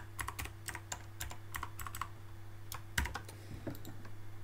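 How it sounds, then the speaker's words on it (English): Quick, irregular clicks of someone typing a password on a computer keyboard, close and alone over a low steady electrical hum, with one sharper keystroke near the end. "And then you have to type the same password again."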